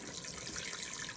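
Water poured onto dry concrete mix in a mold for a bonsai pot, giving a steady close splashing rush that stays even for about a second.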